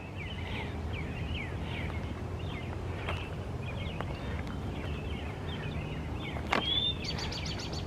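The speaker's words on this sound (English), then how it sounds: "A lot of birds singing, and I see a lot of birds flying off." Many birds sing at dawn in Iroquois Park in March, with repeated short chirps and whistled notes, some faint and some nearer, over a steady outdoor hiss.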